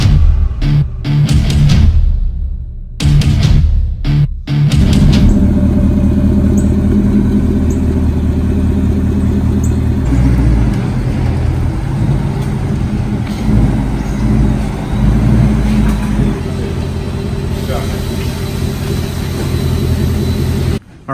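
A 2018-2019 Ford Mustang GT runs on a Dynojet dyno, its V8 starting with a few short blips before settling into a loud, sustained drone with a shifting tone that holds for most of the stretch.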